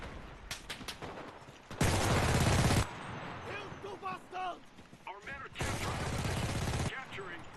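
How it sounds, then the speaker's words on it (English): Machine gun fire from AI-held bunkers on a Battle of the Bulge style Ardennes map in the shooter game Enlisted, with two long, loud bursts of rapid fire separated by someone speaking over fainter shots. "AI are actually using machine guns now."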